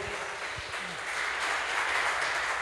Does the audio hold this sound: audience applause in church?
yes